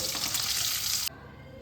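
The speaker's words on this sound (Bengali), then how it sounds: "এরকম লাল লাল করে মাছগুলোকে ভাজতে হবে" Pieces of katla fish sizzle in hot oil for a Bengali kalia, a loud, steady hiss of frying that cuts off abruptly after about a second, leaving quiet kitchen room tone.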